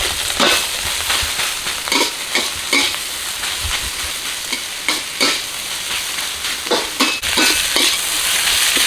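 Crab meat and carrots stir-fried for crab fried rice, a bright constant sizzle with frequent spatula scrapes and occasional clinks against the pan, close up and without voices.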